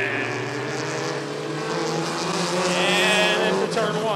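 Bandit race cars at Rockford Speedway roar as they accelerate into the figure-eight course at the green flag, a loud, dense engine drone with several motors overlapping and rising in pitch.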